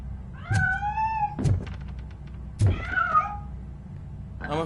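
A cat meows twice in the video game Robocop Rogue City, each meow a clear, drawn-out call, with dull knocks and thuds between them and no talking.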